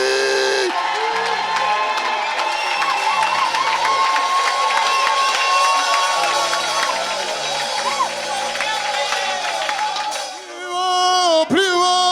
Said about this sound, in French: Est-ce qu'on peut l'acclamer ici, Jésus?